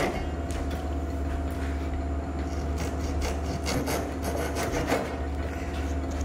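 Rasping, sawing strokes cutting away excess plywood keel on a wooden surfboard kit, a steady close scraping rhythm with repeated sharper bursts, no talk.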